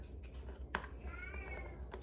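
A pet cat meows indoors, a short high meow followed by a longer drawn-out one, faint and close against a low background hum.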